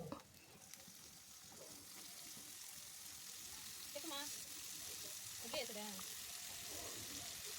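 Tomato pieces sizzling in hot oil in a pan over onion and turmeric while drumstick curry is cooked at home, a steady soft frying hiss with a few light stirring scrapes and someone speaking quietly over it.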